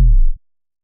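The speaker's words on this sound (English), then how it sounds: "So you hear how it's sort of getting darker, meaning filtered more as it's going on." A synthesized bass drop made in Logic Pro X with an LFO-triggered filter: one loud, deep hit whose pitch sweeps downward and darkens within a fraction of a second, then silence.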